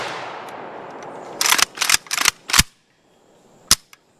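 An AK74 rifle fires 5.45x39mm rounds in four sharp, loud shots spaced about a third of a second apart, then one more single shot after a pause, each with a short echo.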